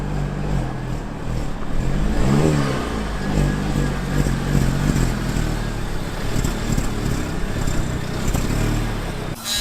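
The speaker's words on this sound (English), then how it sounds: "I need to pull in the car up to the driveway." A Volkswagen GTI with crash damage pulls up a driveway, its engine droning steadily near and loud with rising revs, moderate throttle changes and tire roll, with no talk.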